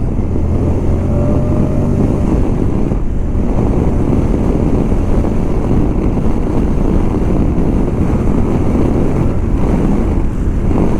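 A 2024 Moto Guzzi Stelvio motorcycle accelerating on the road, its engine roar largely buried under heavy, constant wind rush at the rider's microphone.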